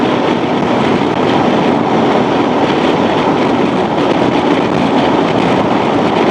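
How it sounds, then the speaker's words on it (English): Steady, loud wind roar buffets the rider of a 2024 Honda Transalp 750 cruising in sixth gear at 80 mph around 5,000 RPM, a dense broadband rush that never lets up. "now so I'm getting a little bit of wind"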